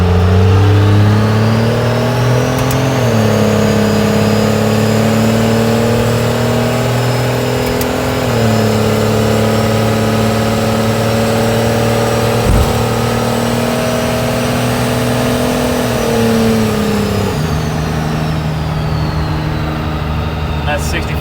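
Cummins 12-valve diesel truck with a big single turbo accelerating through the gears, a loud close engine drone that climbs, drops at each shift and climbs again, with a rising turbo whistle.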